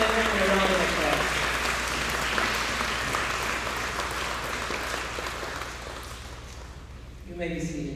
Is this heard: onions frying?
no